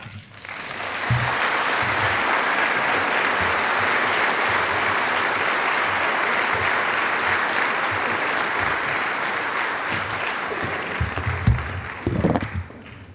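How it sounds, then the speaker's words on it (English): Sustained applause from an audience at a public meeting on the prescription opioid and heroin epidemic, dense and steady throughout, with a few louder claps and a brief voice near the end. "Another round of applause for Julie and Avi Israel"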